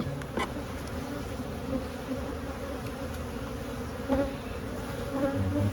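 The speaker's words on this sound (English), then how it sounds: "I'm seeing bees up here." Bees hum in a continuous, close buzzing drone around an open beehive, with occasional louder passes as individual insects fly near.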